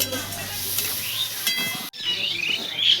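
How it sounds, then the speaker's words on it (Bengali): A spice paste with Kashmiri chilli powder fries in a pan for chicken chaap, giving a close, continuous sizzling hiss with a brief break partway through. "লঙ্কা ভালো হওয়ার জন্য আর সামান্য একটু সামান্য দিয়ে আমি ভালো করে কষিয়ে নিচ্ছি"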